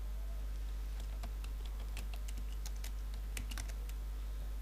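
Quick, irregular keystrokes on a computer keyboard, light close clicks in short bursts over a steady low electrical hum.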